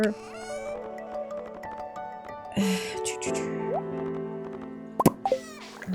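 Watering can splashes water onto crops in Stardew Valley, a few soft plopping splashes heard over cheerful in-game background music with scattered small game effects.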